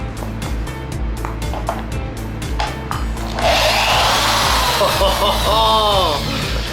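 Rhythmic scraping strokes give way to a power drill whirring into material, a close, loud grinding whine that rises and falls.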